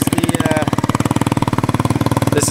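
A GY6 scooter engine fitted with its stock CDI box runs close by with a rapid, steady pulsing putter throughout, loud and unbroken, with no one speaking.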